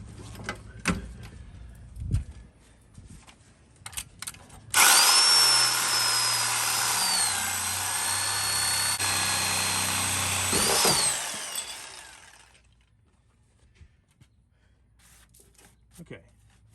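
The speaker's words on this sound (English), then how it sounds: "I decided to take a Sawzall, and I'm in the process of cutting" A Sawzall reciprocating saw cuts through a rubber cab mount bushing on a 1996 Ford F350 7.3 Powerstroke truck, starting with a loud buzzing roar that runs steadily for about six seconds and then winds down, with sparse knocks before and after.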